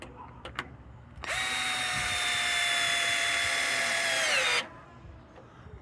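A Milwaukee electric screwdriver running in drill mode gives a single steady high whine for about three seconds, motor pitch dipping slightly under load before stopping, close and clear amid faint room noise.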